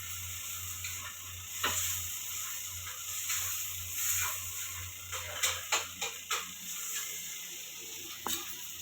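A steady, close sizzle of spices frying in a pan for a black-masala potato curry, with a few sharp clinks and scrapes of a utensil stirring.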